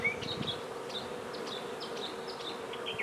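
A honey bee swarm hums in a steady, quiet buzz, with individual bees whining past close by at intervals.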